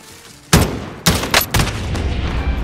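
Gunfire in a shooting video game: several loud, sharp shots in quick succession, with sporadic bursts and a continuing rattle of fire afterward, close and prominent.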